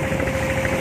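A river boat's engine on a Ben Tre river runs in a steady, close idling drone with a faint tonal hum and no speech.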